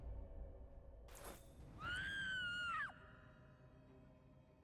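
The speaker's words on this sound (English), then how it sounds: "That scream is coming from down the corridor." A distant scream echoes from down a corridor in a horror tabletop-style video game, a single drawn-out wavering cry rising over low ambient rumble, alone and without talk.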